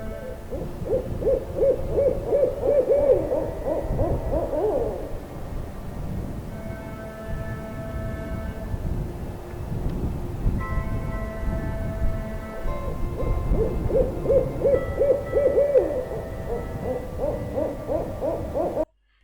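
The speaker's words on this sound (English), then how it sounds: "the owl noise there is too loud" Owl hoot sound effect repeats in two clear bursts, one at the start and one near the end, loud and close, over a steady low background rumble.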